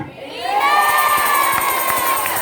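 A church congregation at a Palm Sunday service shouts and cheers joyfully together, a loud sustained crowd roar with high whoops rising over it, close and filling the room.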